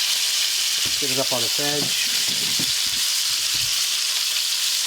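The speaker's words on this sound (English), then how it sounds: "Okay, so I want to sear this all the way around." Meat sears in a hot pan with a loud, steady, close sizzle and hiss throughout, as a voice talks briefly over it.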